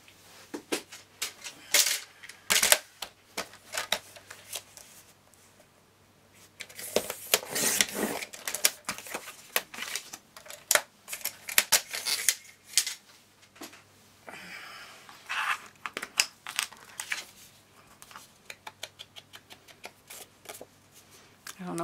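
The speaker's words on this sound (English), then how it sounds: "So I can cut this in half, use half on the front cover and then half on the back cover." Paper is cut in half during card crafting, giving bursts of crisp snipping and rustling at close range, interspersed with handling noises and quiet stretches, under a person talking.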